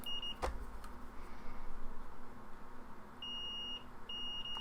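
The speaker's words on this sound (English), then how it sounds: "We should confirm this thing is beeping" Two short electronic beeps from a PS5 console board with a no-power fault, each a steady high tone lasting under a second, sounding over a faint hum after an early click.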